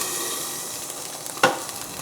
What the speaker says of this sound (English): I hear my burger going.